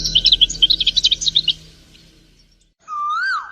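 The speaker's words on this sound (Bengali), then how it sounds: "টুনি পাখি খুব জোরে চিৎকার করে ওঠে" A small bird, a tailorbird, calls sharply: a rapid string of high chattering chirps, then a pause and a single loud, clear whistled note close by.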